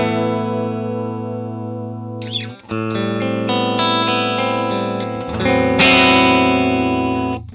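Strat-style single-coil electric guitar in the center pickup position played through an amp, sustained chords ringing loud and clear with a few chord changes and no talking.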